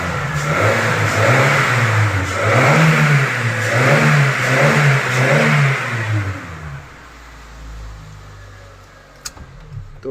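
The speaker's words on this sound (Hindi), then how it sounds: "मैं एक बार रैप करके दिखा देता हूँ आपको।" A 2024 Honda Amaze engine revs up and down repeatedly in a rhythmic pattern, loud and close, then drops back to a low idle hum.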